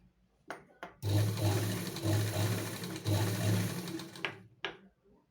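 Sewing machine stitching the waist belt of a blouse, running in a steady mechanical whir with a rapid needle clatter for about three seconds, framed by a few brief clicks before and after.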